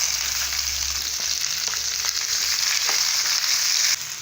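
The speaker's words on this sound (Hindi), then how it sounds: "जीरा अच्छा लाल हो जाए तब हम इसमें प्याज और मिर्ची भी ऐड कर देते हैं।" Onion and green chili sizzle in hot oil with reddened cumin seeds for palak paneer, a steady loud frying hiss with a few soft stirring clicks and no talking.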